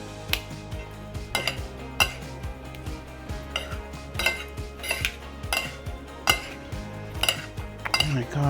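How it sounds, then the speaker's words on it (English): Quinoa salad being mixed in a bowl: repeated clinks and scrapes of utensils against the bowl in an uneven rhythm, close and clear, with no talking. "we're just going to mix this up here now"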